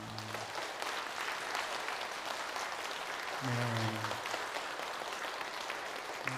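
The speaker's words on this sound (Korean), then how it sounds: "우리 박수해 주시기 바랍니다." A church congregation applauds during a Sunday service, a soft, distant patter of clapping from many hands that runs throughout, with a brief spoken word and some musical tones underneath.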